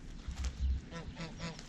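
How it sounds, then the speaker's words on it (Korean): Geese honk faintly in the distance, a few short, nasal calls in loose succession over low background rumble. "저 멀리서 깡패 거위들이 오고 있다"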